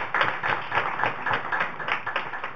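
A student quiz-competition audience claps in steady, fairly close applause that runs for about two and a half seconds before stopping abruptly.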